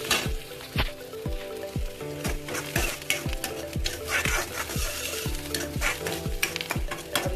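Onions frying in a pan as they turn light brown, a steady close sizzle broken by regular scraping strokes of a spoon stirring them around.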